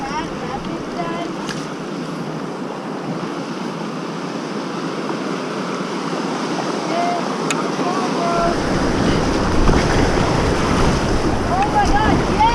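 Rapids rush on the Shenandoah River during a float trip. Constant turbulent water and wind noise swell noticeably louder partway through as the rapids close in, with faint voices in the background.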